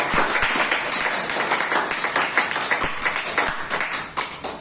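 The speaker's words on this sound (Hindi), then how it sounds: "अपने हाथों को कष्ट देते हुए जोरदार तालियों से स्वागत करें हमारे सभी अपलायंस" Applause from an audience at a hall event, a dense, steady patter of many hands clapping loudly throughout, with no speech over it.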